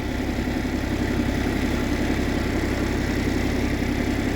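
A Japanese mini tractor fitted with a rear dump body for snow clearing runs its engine at a steady idle. The low, even chugging continues throughout with no voices.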